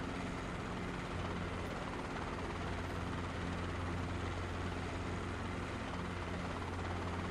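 A Robinson R22 helicopter in a flight simulator video game drones steadily with a constant rotor and engine hum, loud and unbroken throughout, with no talk.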